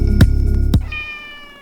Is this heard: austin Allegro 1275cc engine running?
no